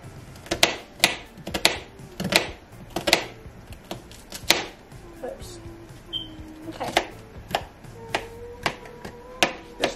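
Sharp, evenly spaced knife taps on a cutting board, close by, mincing a shallot in a steady rhythm while someone speaks softly in between.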